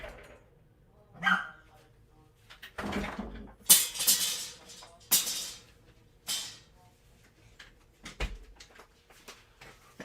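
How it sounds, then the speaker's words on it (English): A small dog yaps in several sharp bursts, scattered irregularly with pauses between them, fairly close indoors, with some muffled thumps and speech mixed in. "I got a yapping dog there"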